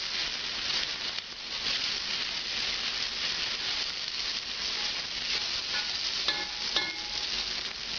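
Chicken cacciatore sizzles steadily in a non-Teflon pan over medium-high heat, with occasional stirring and a few light utensil clinks against the pan over a constant frying hiss.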